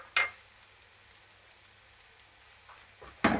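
Koftas dropped into hot oil in a pan give two short bursts of sizzling, one near the start and a louder one at the end, with a quiet lull between them.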